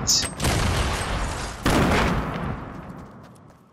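Gunfire in a shooter video game: dense bursts of rapid shots and booming impacts, loud and close, with a second heavy burst midway before fading out.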